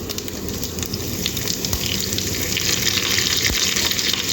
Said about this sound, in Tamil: அப்புறம் காஞ்ச மிளகா கருவேப்பிலை போடுவோம்